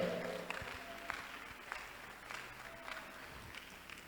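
Church congregation clapping at the close of a sermon, a soft, distant patter of many hands that runs steadily throughout with no voices over it.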